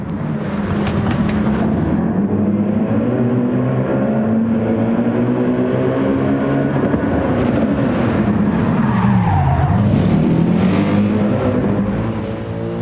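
A tuned Mercedes-AMG A45 races in Gran Turismo 7, its engine roaring loud and continuous with rising and falling revs, shifts, and tire skids and squeals through corners, with no talking.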